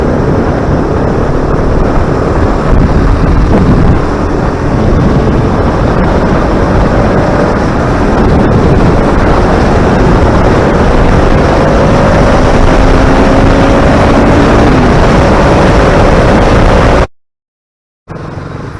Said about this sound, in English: So I'm just riding the RS200 in bumper to bumper traffic on purpose so that the bike gets a chance to heat up